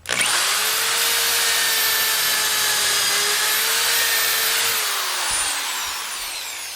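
A power drill whines steadily at high speed for several seconds, boring pocket holes into wood with a Kreg pocket hole jig, then winds down as it finishes; loud and close, no voices.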